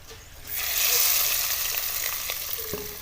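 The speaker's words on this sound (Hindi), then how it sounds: "अब हम इसको दाल के अंदर डाल देते हैं" Hot tempering of fried red chillies is poured into cooked moong dal, setting off a sudden loud hiss that settles into steady, close sizzling and crackling.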